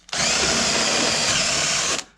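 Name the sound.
drilling a hole with a step drill in a bumper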